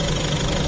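A Mazda 5 with a 2.0 petrol engine idles close by, a steady, loud and even rumble with no voices over it.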